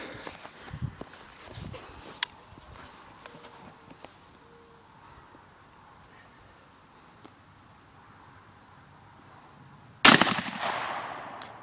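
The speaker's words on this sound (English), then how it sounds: "Right now what we're going to see is how this 223 Ackley Improved does with some soft nose lead bullets through it." A 223 Ackley Improved rifle fires soft nose lead bullets at a 7 yard target. Faint rustling and quiet handling come first, then a single loud, sharp report near the end that rings out briefly.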